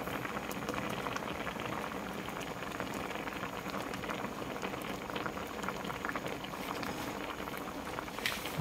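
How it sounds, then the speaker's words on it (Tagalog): Cooking liquid boils steadily in a pot outdoors, a dense, even bubbling and crackling that holds at a constant level throughout, close and moderately quiet. "Yan, nakulo na po."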